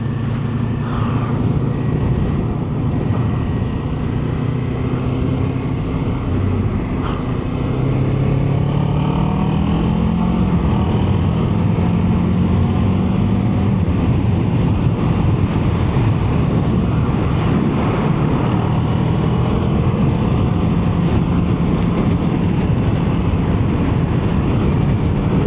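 A Kawasaki Ninja 7 HEV hybrid motorcycle pulls away and rides on, its engine note rising beneath a heavy, constant roar of wind buffeting the microphone.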